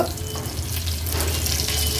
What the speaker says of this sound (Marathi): फोडणीला आपण ही कढीपत्त्याची पानं घालूया